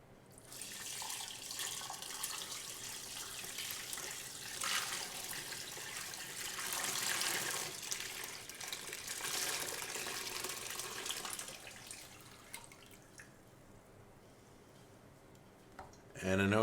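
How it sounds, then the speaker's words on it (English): Turkey brine poured from a pot into a container holding a turkey, a steady rushing liquid stream lasting many seconds, quiet and close, tapering off before a brief bump at the end. "we're going to go to the stove, grab our brine, and we're going to pour it in here and fill it up."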